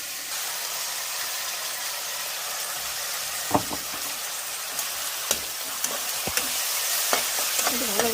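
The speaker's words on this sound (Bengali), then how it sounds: "ভালো করে কষিয়ে নেব।" A chili and turmeric paste sautés in a pan with a soft, continuous sizzle, and a spoon gives occasional sharp clicks and scrapes as it stirs.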